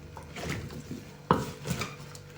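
Sliced cucumbers for a spicy pickle salad being stirred in a bowl, with soft clinks and scrapes of a utensil against the dish and one sharper knock partway through, close and fairly quiet.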